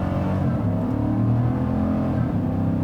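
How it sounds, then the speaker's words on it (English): A 2017 Chevrolet Silverado pickup's V8 engine revs steadily at close range, a deep throaty drone rising and holding with no voices over it. "it shocks me how fast this V8 revs for such a big boy"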